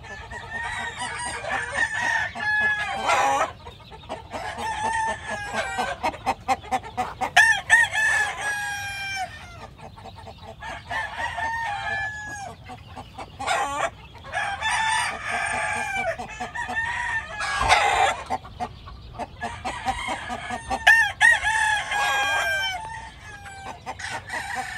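Chickens in California, including a rooster and a hen, with repeated loud crowing calls and clucking throughout, close and busy, with faint background noise.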